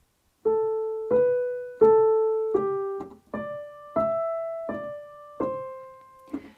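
A short piano passage of about nine notes is played legato under slurs, the notes joined smoothly with little gap between them, moderately loud and unaccompanied.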